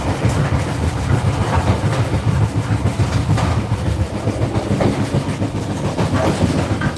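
Inside the bathroom of a moving Vietnamese passenger train, a loud, constant low rumble carries rhythmic clattering and rattling from the carriage, with no talk.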